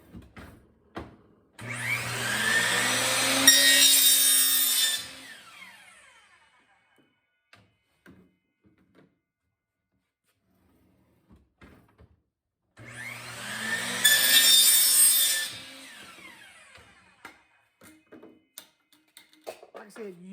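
Two separate bursts of sawing through parts for a trash can nutcracker, each a few seconds of raspy cutting strokes, with quiet gaps and light handling clicks between.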